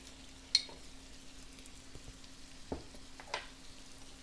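Spiced potatoes coated in turmeric are stirred in a pan, giving a few soft, scattered scrapes over a faint, quiet sizzle.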